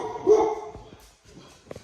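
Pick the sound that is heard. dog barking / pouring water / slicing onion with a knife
dog barking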